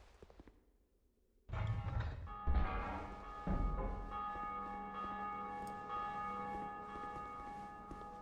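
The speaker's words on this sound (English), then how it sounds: "Yep, I sure did ring the bell." A large bell rings in the Dark Souls 2 game world, struck once after a quiet start and sustaining a loud, rich metallic tone with a couple of heavier clangs as it keeps resonating for several seconds.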